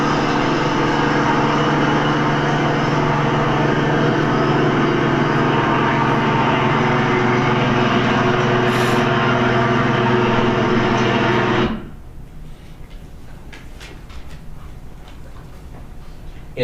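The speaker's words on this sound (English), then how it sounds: "there seems to be a loud whirling sound. Is that the helicopter already responding?" A loud, steady engine-like whirl from a responding helicopter drones for about twelve seconds, then cuts off abruptly to faint background noise.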